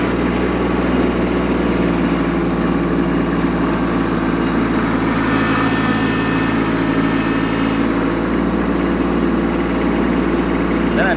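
A compact tractor engine, working a front end loader while grading dirt, runs steadily at high revs around 2,000 RPM with a constant low drone throughout, loud and close with no speech over it.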